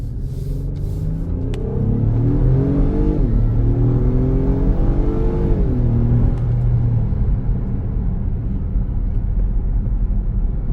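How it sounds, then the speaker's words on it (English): An Acura MDX Type S engine revs and accelerates in rising sweeps, a steady rumble with a faint high turbo whistle riding above it, no talk. "you can hear that turbo kind of whistling a little bit"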